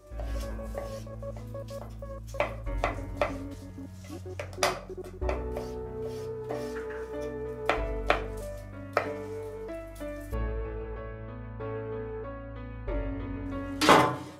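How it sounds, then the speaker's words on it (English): Knife chopping potatoes on a cutting board for a roast turkey with chestnuts and vegetables: a series of crisp, close, irregular thunks through the clip, with a louder clatter at the end. No talking. "Chop the potatoes."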